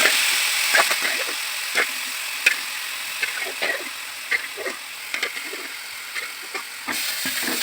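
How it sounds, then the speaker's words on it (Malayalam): Cooked squid stirred into a ground coconut paste in a pan for a thoran: a steady soft sizzle under repeated light scraping and stirring strokes, close by. "നമുക്ക് ഈ കണവ ഈ അരപ്പിലേക്ക് ഇട്ട് കൊടുക്കാം."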